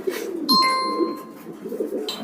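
Soft low pigeon cooing from a female pigeon repeats through the clip, close by, with a brief higher electronic tone partway through.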